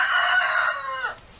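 A hen from a backyard flock of thirteen laying hens, several gone broody, gives one drawn-out, close, fairly loud call that fades at the end.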